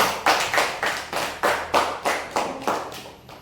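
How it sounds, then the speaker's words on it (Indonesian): Children and a teacher in a classroom lesson clap together in a regular rhythm, about eight distinct, evenly spaced group claps, close and clear. "Tepuk tangan dulu untuk kita semua"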